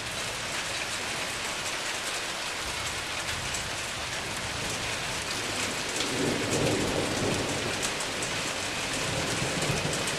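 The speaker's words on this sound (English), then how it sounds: "it's starting to rain a little harder here" Heavy rain pours steadily during a summer thunderstorm, a dense continuous hiss of drops, with a deep roll of thunder swelling in the middle and fading.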